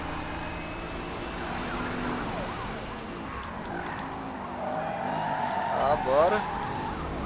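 A police siren wails during a car chase in the racing game Need for Speed Rivals, its rising and falling tone climbing loudest near the end over engine roar and tire noise, while someone speaks briefly.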